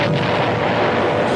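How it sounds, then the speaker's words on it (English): A bomb explodes on the battleship Arizona during the attack on Pearl Harbor, a loud continuous roar and rumble of blast that fills the whole short moment with no talking over it. "One scores a direct hit on the battleship Arizona."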